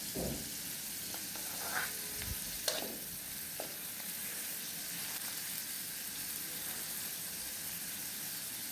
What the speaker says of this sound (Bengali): ভালোভাবে নেড়ে চেড়ে চিংড়ি মাছগুলোকে ভেজে নিতে হবে